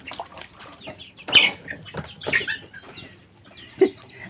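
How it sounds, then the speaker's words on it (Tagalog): Several farm chickens cluck and squawk nearby in a few irregular bursts, with one louder squawk early on and a short cluck near the end. "Dami manok,"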